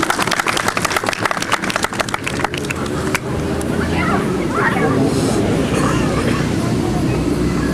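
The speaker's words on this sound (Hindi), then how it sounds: "इनके लिए तालियां।" An audience at an outdoor gathering claps in a burst of sharp, distinct hand claps that quickly merges into a broad, sustained roar of applause and crowd noise.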